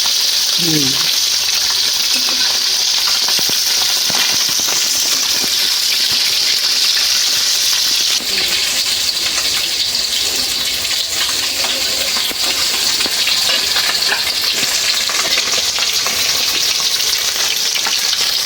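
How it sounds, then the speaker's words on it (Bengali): Air fish frying in hot oil in a kadai, a loud, continuous close sizzle with occasional spatters and faint stirring, a voice briefly heard in the background. "কড়াইতে মাছ ভাজি"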